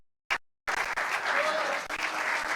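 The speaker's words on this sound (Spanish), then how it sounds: "Dele un fuerte aplauso al Cristo de la gloria." A church congregation breaks into loud, sustained applause honoring Christ, starting after a brief silence and a short burst, with a dense crowd of clapping hands close by and a faint voice mixed in.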